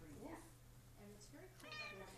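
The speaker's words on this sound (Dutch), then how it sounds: "Poesjes op tv." A cat meowing from a television, a couple of short mews heard at a distance through a TV speaker in a room, with people's voices talking alongside.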